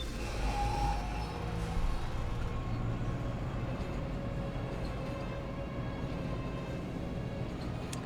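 Tram ride in the Dead Space Remake game, a steady mechanical rolling rumble with a brief whine near the start, continuous and moderately loud with no voices.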